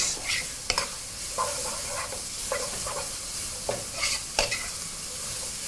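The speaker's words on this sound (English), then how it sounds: "And now we're just going to grab a wooden spoon and proceed to give that a mix." A wooden spoon stirs onions and leek sweating in a pan over turned-up heat, giving short, repeated scraping strokes over a soft, constant sizzle.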